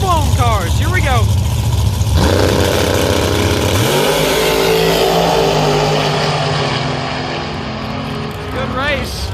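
Supercharged drag racing cars launch at London Dragway, a loud engine roar that rises and sustains over several seconds with the crowd and commentary talking over it, with brief high whines near the start and end.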